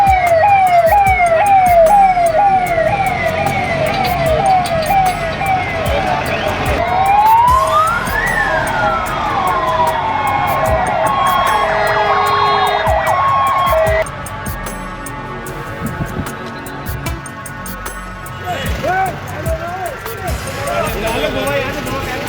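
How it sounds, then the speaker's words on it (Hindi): Ambulance and fire engine sirens wail along a street in Moradabad, Uttar Pradesh, with rising and falling tones and several overlapping sirens, loud and close over road traffic. "सड़कों पर दिखी सायरन बजाती एम्बुलेंस और फायर ब्रिगेड की गाड़ियां"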